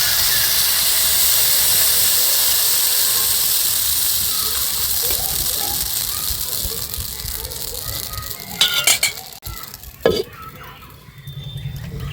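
Chitoi pitha batter, a ladleful poured into an oiled pan, hisses in a steady, bright sizzle that fades slightly, then a couple of sharp clanks near the end.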